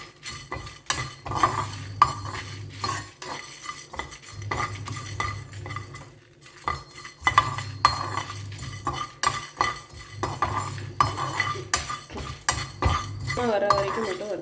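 Sambar spices roast over a low flame in a metal pan, stirred with a spoon in repeated scraping, clinking strokes that come in steady bursts with brief pauses between them.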